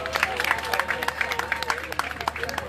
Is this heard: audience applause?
yes